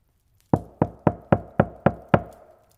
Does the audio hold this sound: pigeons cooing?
no